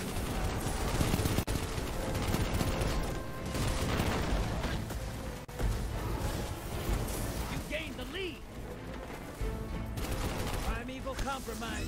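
Destiny 2 sniper and linear fusion rifle fire cracks in repeated loud bursts amid a dense, chaotic mix of game effects, while a person talks over the action.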